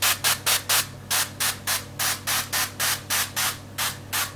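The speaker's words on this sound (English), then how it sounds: "So what I'm going to do now is spritz it with some olive oil" Olive oil spray spritzed onto raw chicken wings before air frying: a steady run of about sixteen short, sharp hissing bursts in quick, regular succession, close and clear over a faint low hum, with no talking.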